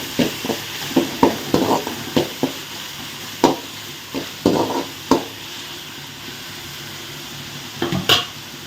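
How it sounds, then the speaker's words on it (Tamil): Tomatoes frying with shallots and fennel in a kadai: a soft sizzle under repeated scraping stir strokes, spoons knocking the pan in uneven bursts and then easing into quieter frying. "நம்ம வந்து தக்காளி பழத்தை போட்டுக்கலாம்"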